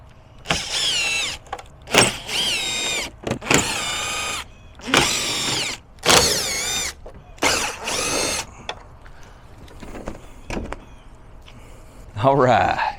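A power tool whirs in repeated short bursts, removing bolts from the shell of a 24-volt DC low-profile rooftop RV air conditioner, with brief pauses between runs and a clatter near the end.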